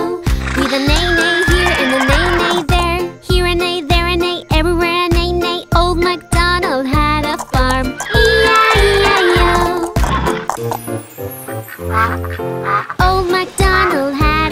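A horse whinnies amid a loud, bouncy children's song, Old MacDonald Had a Farm, with singing and instruments, the neighs mixed into the music.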